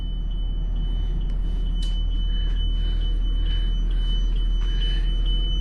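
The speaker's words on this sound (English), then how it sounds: "We still have our tire warning going on." A tire pressure warning alarm beeps repeatedly at a steady pace inside a 2022 Tiffin Allegro Red 37PA motorhome. The thin, high beeps sit over a constant low rumble.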